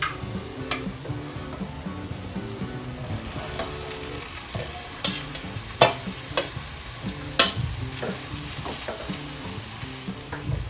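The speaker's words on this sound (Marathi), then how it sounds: "भाजी परतून घेऊया आता." Moringa leaves stir-fried in a pan make a continuous sizzle with a low bubbling hum underneath, broken by sharp metallic clicks and scrapes of a spatula against the pan at irregular moments.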